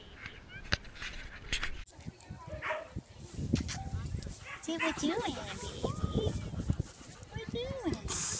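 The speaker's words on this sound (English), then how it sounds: "Probably dog barking and howling is probably like a lullaby anymore." Sled dogs at a mushing kennel bark and yip in a busy overlapping chorus, with a few rising howls and whines, near and fairly loud, while people talk throughout.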